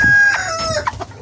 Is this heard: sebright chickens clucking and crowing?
yes